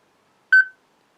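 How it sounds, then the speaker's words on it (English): A single short electronic beep from a greeting card voice recorder signals that recording has started, a clean close tone that stops quickly and is followed by silence. "now you've got that beep. It's now recording"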